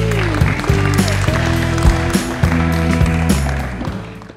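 Crowd applause rings out at a youth tennis tournament final to honor a player, a steady wash of clapping with overlapping tonal sounds, loud and sustained before fading slightly at the end.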